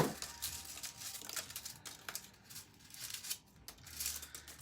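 Close, quiet snipping and crinkling as scissors cut dried rose petals, irregular crisp cuts and rustles.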